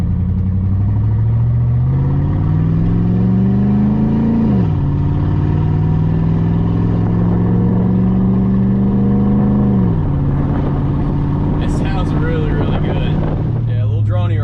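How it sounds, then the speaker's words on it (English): A car accelerating with the windows down, its engine drone climbing in pitch through two rising pulls, dropping back at each shift, with wind rushing in around the open windows. "Go ahead and roll the windows down, do us a little acceleration."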